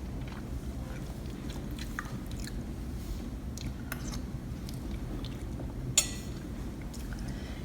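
A taste of a hot, spicy besan dish made with mango powder, heard as soft, close chewing and a few small mouth clicks over steady low background hum, with no talking.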